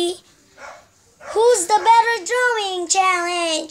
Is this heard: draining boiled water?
no